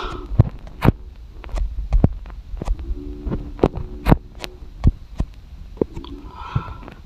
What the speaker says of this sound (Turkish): Tırı çalıştırıyorum.